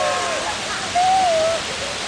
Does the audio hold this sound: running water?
yes